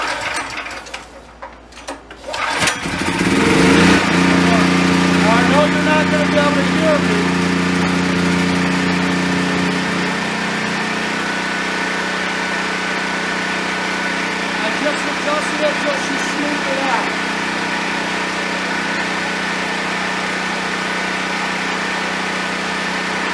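A PowerMate 7500 watt portable generator converted to run on propane starts after a brief rumble, then idles with a steady, loud engine drone that settles into an even hum for the rest of the clip.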